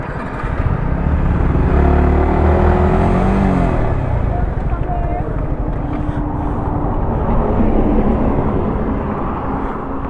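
Yamaha R15M, XSR-155 and MT-15 motorcycles race with a loud, close engine roar whose pitch climbs and shifts as they rev through the gears, sustained throughout.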